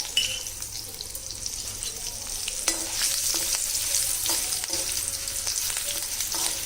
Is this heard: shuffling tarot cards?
no